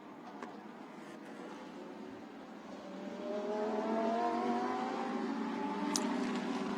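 Lamborghini Super Trofeo race cars run in a bunched pack behind the safety car at Suzuka, giving a continuous engine drone that swells louder and closer as they pass, with layered rising engine tones.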